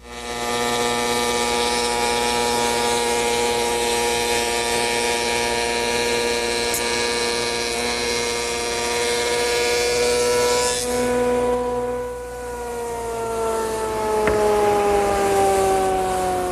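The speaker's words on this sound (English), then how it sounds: "So I've slowed the speed of the shaper down. I'll tighten it on and we'll run some panels through." A wood shaper, slowed down, runs tapered cabinet panels through its cutter, giving a loud, steady mechanical whine that holds for a long stretch and then shifts in pitch near the end.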